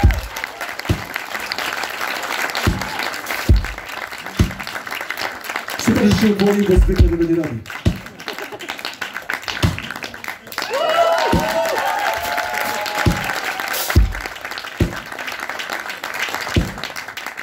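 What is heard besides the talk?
concert audience applause for a drummer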